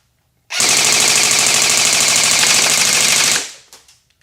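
A KWA VM4 airsoft AEG rifle powered by a 7.4-volt lithium-ion battery fires one loud, continuous full-auto burst of about three seconds of rapid, even mechanical clatter, then stops sharply with a few faint clicks after.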